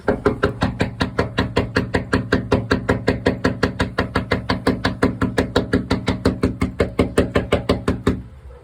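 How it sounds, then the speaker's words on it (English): Steady, rapid knocking on a house door, dozens of sharp raps in an even rhythm, loud and close, running for about eight seconds before stopping. "Me knocking on their door because I'm a civil human being."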